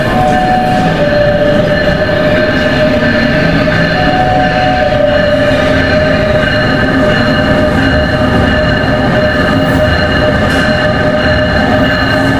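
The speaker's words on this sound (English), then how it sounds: "So from here I'll take another train which is the NJ Transit train and move" A NJ Transit train rides from Newark toward Princeton, producing a loud, steady onboard rumble with wheel and track noise and a constant tonal whine, continuous throughout and without speech.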